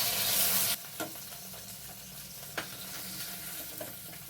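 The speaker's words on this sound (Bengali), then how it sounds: "মাছগুলোর দু পিঠ ভালো মতো ভাজা হয়ে গেছে," Pieces of chital fish frying in oil, a steady, fairly soft sizzle after a louder opening rush, with a few distinct knocks and clicks of utensils scattered through it and no voices.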